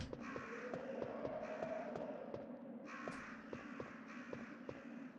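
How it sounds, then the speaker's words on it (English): Crows caw repeatedly in Resident Evil, harsh rhythmic calls in short bursts of several caws, clear and fairly close over a low ambient game drone, with no talking. "And then there's the crows there, which I can shoot"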